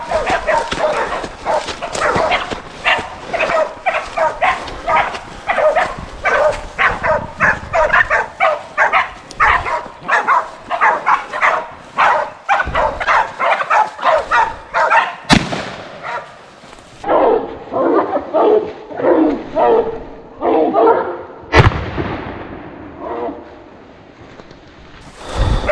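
Hunting dogs bark at a boar in a steady, rapid stream of loud, close barks and yips, with occasional sharp bangs and brief pauses, and no clear talk.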